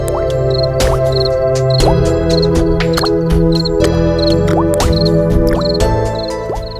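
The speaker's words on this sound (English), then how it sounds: "another large drop of water fell on him" A large drop of water dripping, rendered as a loud run of repeated, plinking drip notes that fall in a steady rhythm over a musical background.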